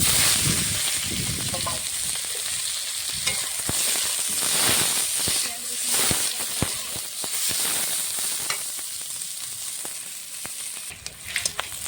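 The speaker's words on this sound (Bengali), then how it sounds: "পেঁয়াজ রসুন লঙ্কাটা ভালো করে ভেজে নিচ্ছি" Chopped onion, garlic and green chili frying in hot oil, with five-spice, producing a steady close sizzle and hiss with occasional stirring clicks and scrapes.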